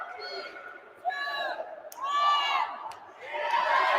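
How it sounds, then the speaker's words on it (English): At a women's hockey game on senior night, a large arena crowd chants a countdown together as a power play ends. Rising shouted voices come in rhythmic bursts, loud and reverberant, with cheering between them. "as the whole crowd does a counting lesson"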